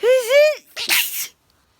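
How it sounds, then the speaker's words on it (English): One close, loud human sneeze: a rising voiced intake, then a sharp breathy burst, followed by silence. "Oh my, I just started sneezing."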